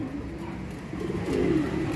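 Soft, low pigeon cooing sounds close by, a gentle warbling coo swelling near the end over a quiet background.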